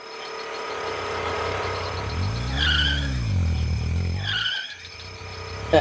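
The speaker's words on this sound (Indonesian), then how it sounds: "Suara motor, Pan?" A motor engine draws near and revs past, its pitch swelling and dipping, over a steady background hum.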